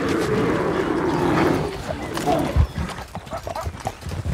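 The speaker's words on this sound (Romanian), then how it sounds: "Uite calul, frate." Horse hooves clip-clop steadily in a Western-style video game, with a brief whinny or animal call mixed in beneath continuous background game noise.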